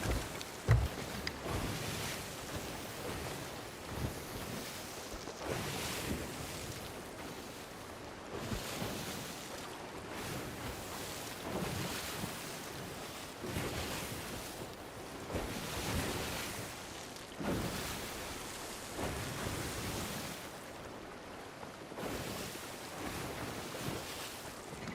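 Ship sailing over ocean waves in Sea of Thieves, repeated surges of surf and hull splash every few seconds over a steady bed of wind.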